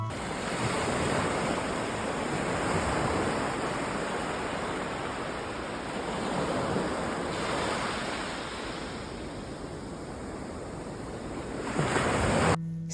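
Waves break at Seacliff Beach, a raised beach backed by an old shoreline, as a steady, loud surf roar that swells and eases in broad surges, with wind buffeting the microphone and no voices.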